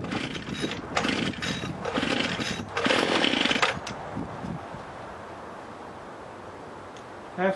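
Petrol hedge clippers on full choke after a pull start, giving a series of rough buzzing engine bursts that sputter for a few seconds and then die away into quiet background noise.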